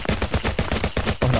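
Rapid video-game gunfire from Super Smash rattles in a fast, even string of sharp shots, loud and continuous for just over a second.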